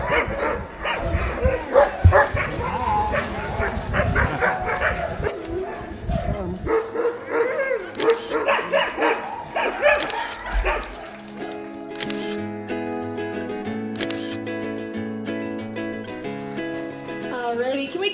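Dogs bark and yip at a sled dog demonstration in Denali National Park, Alaska, in a busy, noisy space with voices and crowd sounds, followed by music playing toward the end.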